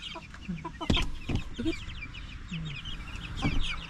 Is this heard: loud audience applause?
no